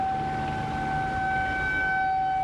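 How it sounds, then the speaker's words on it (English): A siren wails outdoors at a distance during a campus police response at Emory University in Atlanta, a steady sustained tone over low background noise, with no voices. "There is a siren that I mentioned earlier."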